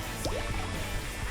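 Clothes being hand-washed in a bag of fresh water, with soft squishing and dripping sloshes in a short, close burst, constant low background noise underneath.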